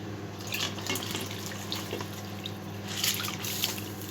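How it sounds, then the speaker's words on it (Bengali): Soaked rice tipped into a cooking pot for chicken biryani, giving wet splashing and dripping over a steady cooking hiss, with a brighter burst near the end. No one speaks. "এবার আমি ভিজিয়ে রাখা চালটাকে দিয়ে দেবো।"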